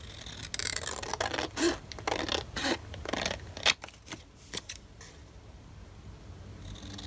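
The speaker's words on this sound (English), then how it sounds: "Again, I'm just going to bring my scissors," Scissors snip through a paper card mat, a run of sharp close cuts spaced irregularly over several seconds, then fading to quiet room tone.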